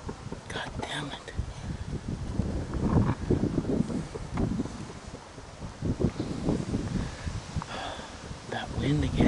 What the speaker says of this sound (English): That wind again.